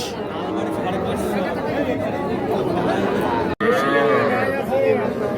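Cattle and young calves moo repeatedly at a busy rural livestock market, with long, close lowing calls over constant crowd chatter and people talking nearby.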